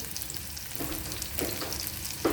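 Garlic and ginger frying in a pan, a close, steady sizzle broken by a few scraping stirs of a spoon.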